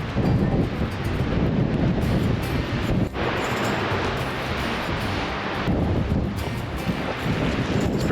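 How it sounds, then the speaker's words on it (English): Strong wind roars steadily at the rim of the Black Canyon of the Gunnison, buffeting the microphone in a loud, continuous rush with no voices. "Pretty windy out here"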